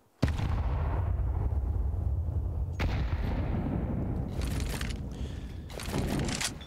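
A grenade hits with a sudden sharp thud during a Counter-Strike match on Anubis at IEM Katowice 2024, followed by a low rumbling background. A second crack and some later scattered bursts follow.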